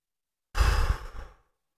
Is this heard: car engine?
no